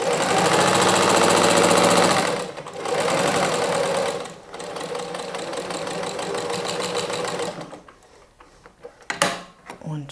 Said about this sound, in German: Wir nähen bis zu unserem unteren Punkt. Und nähen wieder zurück.